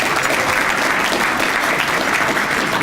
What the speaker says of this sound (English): a little shorter on the applause